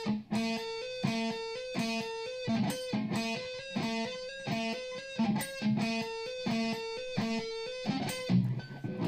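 Distorted electric guitar riff on open strings from a song, played without palm muting, with a steady repeating chugging rhythm, loud and close, alone throughout.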